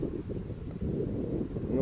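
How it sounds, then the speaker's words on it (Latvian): Wind gusts across a microphone beside an outdoor quarry pond while fishing, a low, steady rumbling buffet that swells toward the end, with a voice speaking over it. "bet tagad pišķiņ vējš pacēlās, bet iepriekš nebija."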